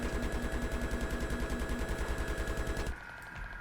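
Rapid automatic gunfire from a Battlefield 3 multiplayer match rattles in a steady, loud stream of shots for about three seconds, then cuts off, leaving quieter game ambience.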